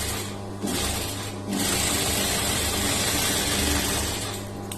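A sewing machine stitching the lining of a blouse, a steady close mechanical whir that pauses briefly and then runs on continuously, with no talking.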